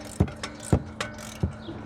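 A ratchet works a bolt on a BMW i3 wheel hub during a hub replacement, giving a few sharp metallic clicks at uneven intervals, close and distinct against a quiet garage background.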